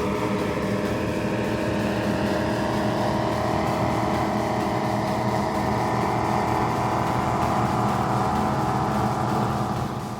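Powerboat racing engines on a new 33 Renegade roar in a steady, dense drone that stays loud and constant throughout, with no voices, during the Key West Poker Run.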